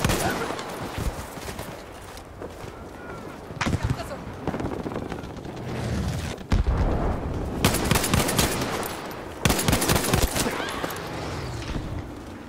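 Gunfire from an iron-sight gun in Battlefield 5, with scattered shots and several sharp loud volleys over a steady rumbling backdrop. Someone talks over parts of it.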